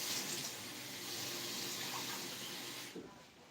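Water from a container pours steadily over chickpeas for several seconds in a constant splashing rush, then tapers off as the pour stops.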